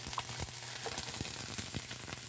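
Onions and garlic sautéing in a pan as they brown, a quiet, steady sizzle with faint crackles and occasional stirring scrapes.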